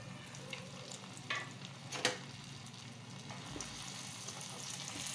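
Spices and a pinch of turmeric sizzle steadily in hot ghee, a continuous broadband frying hiss with a few sharp crackles and stirring scrapes, close and alone with no talking.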